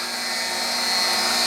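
A bench grinder wheel grinding a lathe tool bit gives a loud, steady, high-pitched whine and hiss that holds evenly with no break.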